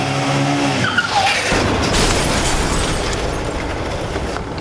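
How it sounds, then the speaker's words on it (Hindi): Motorcycle accident sound effect from a Hindi TV crime drama: a short, loud tire screech and skid rising and ending abruptly, followed by a sustained harsh roaring crash noise, close and alone. "पहले मैंने एक्सीडेंट की आवाज़ सुनी"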